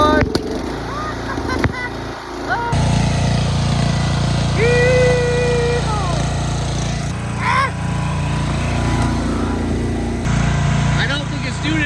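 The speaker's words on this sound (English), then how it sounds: "I'm gonna go get the grass catcher and we're gonna go cut some grass." A Yard Bug riding lawn mower runs steadily while cutting grass, its engine drone close and continuous for the whole stretch, with faint voices in the background.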